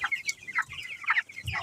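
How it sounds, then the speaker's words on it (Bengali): Farm chickens about 22 days old, broilers near 1.3 kg, cluck in short, close calls spaced across a brief stretch, with no one speaking. "তোমাদের মুরগি কত বড় হয়ে গেছে দেখো।"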